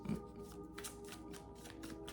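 Tarot cards being shuffled by hand, a soft, steady riffling and sliding that continues through the whole short stretch at a low, close level, with a slightly firmer slap near the start.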